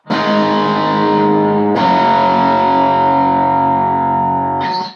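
A loud, sustained electric guitar chord through a distortion pedal rings out, is struck again partway through, then cuts off.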